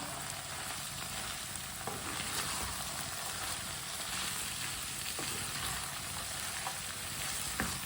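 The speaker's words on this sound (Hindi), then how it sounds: "शिमला मिर्च और पत्ता गोभी को मैंने मिक्स कर लिया है" Chopped capsicum and cabbage stir-fried in a pan, a steady soft sizzle with occasional light scrapes as the vegetables are mixed, fairly quiet and with no talking.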